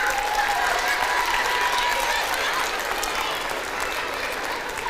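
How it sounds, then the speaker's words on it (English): An audience at a live wildlife show in Wolfeboro breaks into steady, sustained clapping and cheering that fills the whole stretch at an even loudness. "everyone give Cal a big round of applause"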